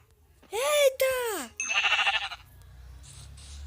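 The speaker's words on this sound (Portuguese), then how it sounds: "Tem ovelha." Sheep bleating in the block-building game Minecraft: two loud, wavering bleats close together, followed by a buzzier third bleat, then a faint quiet tail.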